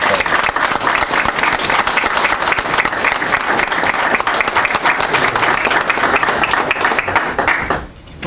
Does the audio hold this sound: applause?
yes